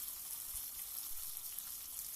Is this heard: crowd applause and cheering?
no